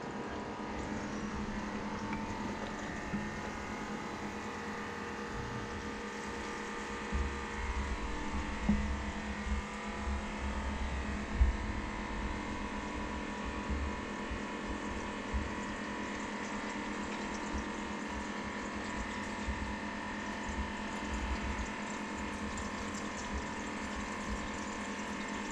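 A Vectra M1 aquarium pump pushes water through a chiller line on a reef tank, giving a steady, moderately quiet hum and flowing-water rush that continues unchanged throughout.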